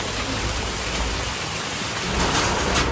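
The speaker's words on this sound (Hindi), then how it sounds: "इंद्रदेव को ये बात मेरी बुरी लग गई तो बारिश आ गई" Steady, close rain pours down throughout, a dense even hiss of drops striking surfaces with a low rumbling undertone, loud and continuous with no voices.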